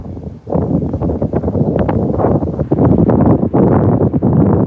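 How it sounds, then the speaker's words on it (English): Strong wind buffets a microphone outdoors in Pacific Palisades, a loud continuous rumbling roar with gusty surges that runs throughout. "It's really windy over here"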